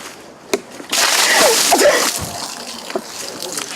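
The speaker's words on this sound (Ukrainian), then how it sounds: "і відро холодної води." Someone tips a bucket of ice and cold water over a person for the Ice Bucket Challenge, outdoors. A loud splash hits after a sharp knock, then the water keeps sloshing and splattering. Voices and small cries come through the spill.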